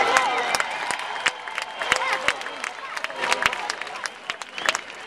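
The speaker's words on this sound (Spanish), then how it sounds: "Bonito y cariñoso el aplauso" Applause and cheering from a concert crowd at a live mariachi-style show fill the space, a dense, loud wash of clapping with scattered sharp claps and hubbub throughout.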